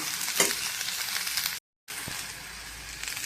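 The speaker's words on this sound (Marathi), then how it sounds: "आपले भेंडे आता आपण हे असे चांगले परतून घेतले" Tender okra sautéing in a pan for a yogurt okra dish gives a steady, close hiss of frying with a few stirring clatters, broken once by a brief silent gap before the sizzle resumes.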